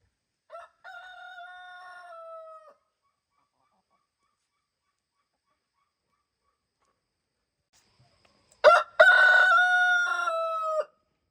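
Light Sussex chickens on a farm: a rooster's long, loud crow rings out, then after several seconds of silence a second, stronger crow follows.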